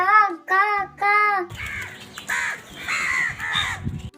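Crows caw after being called to a feeding of vada offered on plates. Three loud, evenly spaced caws come first, then more overlapping calls mixed with busy background noise.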